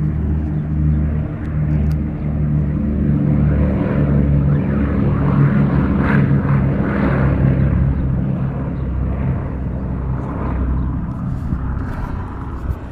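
A World War II propeller airplane roars steadily through its takeoff run, a loud continuous engine drone with rumbling low tones that holds for the whole stretch, with no voices.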